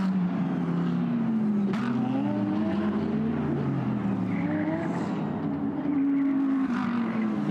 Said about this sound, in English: The 31 I can hear in my commentary box coming past me